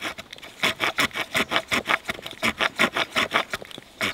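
A scout knife's push-stroke saw blade cuts through wood in a fast, even series of about sixteen rasping strokes, close and clear with no talking.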